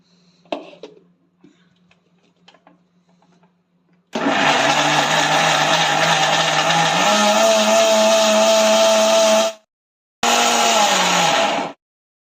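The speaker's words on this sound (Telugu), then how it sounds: "కొన్ని వాటర్ యాడ్ చేసుకొని మిక్సీ పట్టుకుందాము." A kitchen mixer grinder churns cream with water to make butter for homemade cow ghee, its loud steady motor whine running about five seconds, stopping briefly, then starting again, after a few quiet handling knocks.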